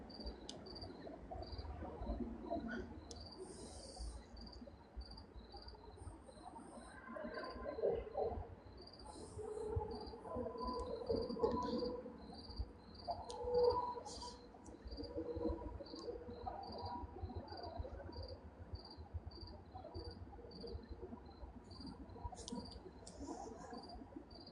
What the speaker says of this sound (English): It's finally a nice night here. You can hear the crickets.